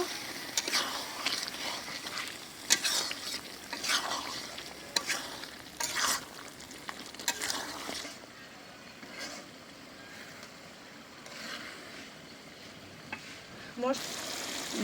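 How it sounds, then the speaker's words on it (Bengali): Pangas fish sautéing with spices in a pan, a close sizzle with repeated scraping and stirring strokes that fade to a softer fry, plus a brief clatter near the end. "মশলার সাথে দেখো মাছটা কত সুন্দর করে ভুনা করে নিলাম"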